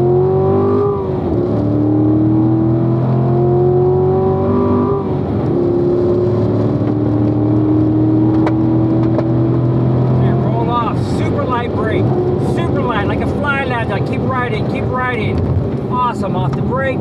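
Corvette engine on a track, droning steadily then rising as the throttle opens, with wind noise; a person talks over much of it in the cabin.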